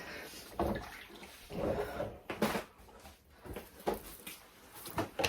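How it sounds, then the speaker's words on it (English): Tap water runs unevenly with splashing and rubbing bursts as hands are washed, close by, with soft knocks in between. "Just wash my hands."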